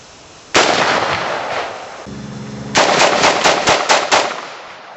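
A Century Arms C93 rifle fires outdoors: a loud burst of rapid automatic shots opens, then after a short pause a second sustained string of sharp, closely spaced reports rings out.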